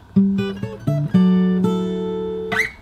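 Fingerstyle acoustic guitar playing a bar of a song from Beauty and the Beast: a bass note with plucked melody notes, then a longer ringing chord that sustains before a final pluck, close and solo.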